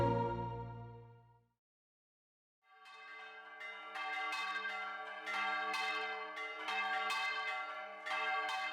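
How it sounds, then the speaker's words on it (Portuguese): Centuries-old church bells peal in São João del-Rei, Minas Gerais, ringing in a lively, repeated rhythm of bright overlapping strikes that swell and continue after a brief silence. "Os sinos são patrimônios da igreja e da cidade e funcionam como uma espécie de locutores, anunciando os principais eventos que acontecem por aqui."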